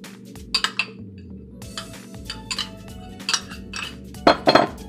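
Coleslaw with carrots and onions being mixed in a bowl: a close series of irregular clinks and scraping knocks of a utensil against the bowl, in short bursts with pauses, no talking.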